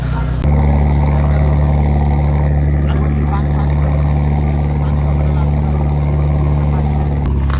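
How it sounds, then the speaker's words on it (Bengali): A trawler's engine drones steadily and loudly from on board, crossing from Teknaf toward Saint Martin's Island within sight of Myanmar. A deep, even rumble runs throughout, with a brief knock at the start and near the end. "আমরা আছি এখন ট্রলারের মধ্যে"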